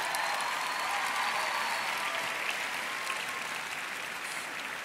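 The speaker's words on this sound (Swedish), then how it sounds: "Fint, en applåd!" The audience at the 2018 P3 Guld awards gala in Sweden applauds, a dense, continuous clapping that stays steady and loud throughout with no pauses.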